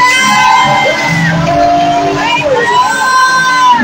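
Church congregation shouting hallelujah together, a loud crowd of voices calling out and whooping over a few seconds.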